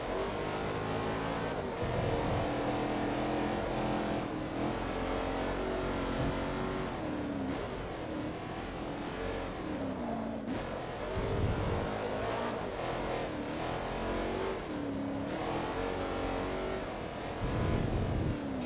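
Race car engine from Forza Motorsport 2 roaring loud and continuous, with repeated revving rises and gear-shift dips as the car is driven hard around a track.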